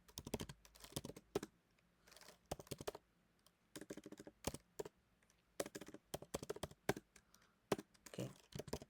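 Code typed on a computer keyboard for a beginner Python solution: quick clusters of close, crisp key clicks in irregular bursts separated by short pauses, quiet and with no talk.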